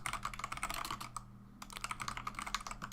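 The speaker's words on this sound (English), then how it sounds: "I don't know how loud my keyboard is on the stream." Rapid typing on a computer keyboard during a live stream, a quick run of clicky keystrokes with a short pause midway, close and fairly quiet.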